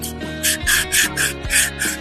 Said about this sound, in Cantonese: 我呢度用砂紙磨一磨